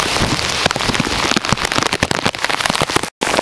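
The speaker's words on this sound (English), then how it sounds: "you can already see how quickly that rain has been falling" Heavy rain from an outer-band squall of Tropical Storm Beryl pours down in a loud, dense hiss, with sharp crackling drops spattering on surfaces nearby throughout.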